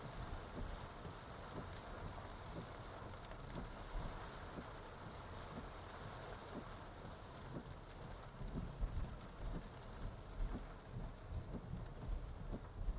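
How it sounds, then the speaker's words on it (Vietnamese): Heavy rain pours down steadily in a Saigon street, a dense continuous hiss with scattered drop impacts, moderately close and building slightly toward the end, with no talk over it. "Tự dưng nó mưa to ghê."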